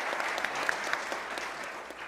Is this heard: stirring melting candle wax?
no